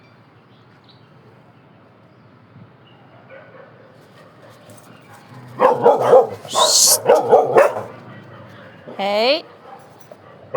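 Several dogs bark and yip outdoors at mid distance in Macau, a burst of barks with a whimpering yelp near the end, while a person calls out once.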